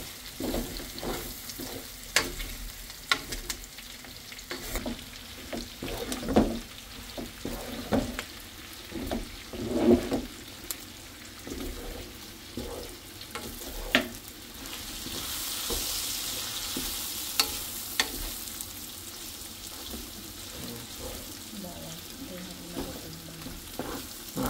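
Garlic sautéing in a pan of hot oil for binagoongan pork, a steady close sizzle and frying hiss with intermittent scraping stir strokes throughout, rising in intensity midway, with no talk over it.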